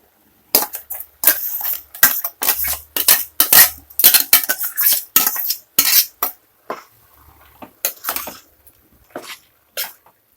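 Ground masala paste going into a pan for boti gojju, heard as a loose series of sharp metallic clanks and scrapes of a spoon against the pan, close and fairly loud, with short pauses between strikes.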